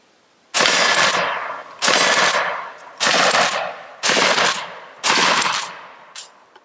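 A Kel-Tec shotgun fires five loud, sharp shots in a steady rhythm about a second apart, each blast ringing out briefly before the next, with no talking.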